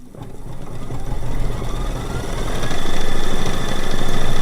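Embroidery sewing machine stitching out a quilt block, a fast steady mechanical whirring and needle clatter that swells slightly louder, close by and alone.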